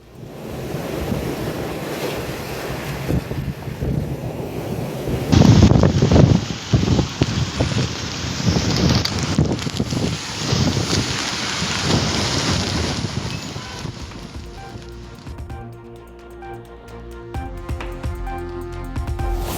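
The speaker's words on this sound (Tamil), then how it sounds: "பாம்பன் பாலம் பகுதியில் 65 முதல் 70 கிலோமீட்டர் வேகத்தில் வீசும் சூறை காற்று" Strong gale wind of about 65 to 70 km/h roaring along the sea at the Pamban bridge, a loud continuous rush with surf and buffeting gusts that peak midway, then ease under some tonal background sound.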